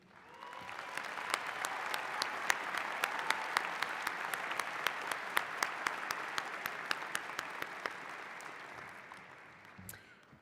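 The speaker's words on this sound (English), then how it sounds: "I invite you all to join me in a heartfelt round of applause to acknowledge and express our gratitude to our outstanding faculty" Audience applause for faculty at a College of Health and Human Sciences commencement: a steady, dense wave of clapping that swells and then fades over about ten seconds, with no talk over it.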